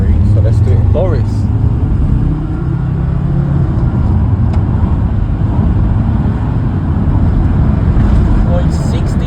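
Volkswagen T4 2.5 van with a rebuilt 270 bhp ACV engine pulls hard through third gear on a speed run, loud steady engine roar mixed with road and wind rumble, with a voice speaking over it near the start.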